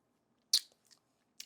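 Homemade chicken nugget dipped in honey mustard bitten with one loud crisp crunch, followed by a few soft chewing sounds and another brief crunch near the end, close up with no talking.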